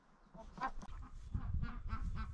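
Nesting ducks give a run of low, nasal honking quacks, close and moderately loud, overlapping one another with no talking.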